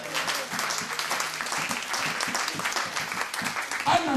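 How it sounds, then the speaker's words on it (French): A church congregation applauds steadily for several seconds, dense claps from a sizable crowd filling the room, with a voice rising briefly near the end. "Est-ce qu'on peut applaudir le Seigneur?"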